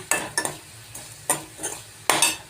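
Beetroot frying in a pan like a potato fry, stirred with a spoon: a few sharp scraping strokes sound over a soft continuous sizzle, close up, with no voices.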